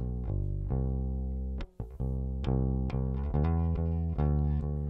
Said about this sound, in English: so we're going to start with our bass.